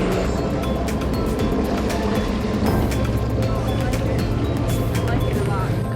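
Inside a large ferry at sea, a steady low engine drone and broad rumble fill the space without pause, with faint indistinct voices mixed into the background.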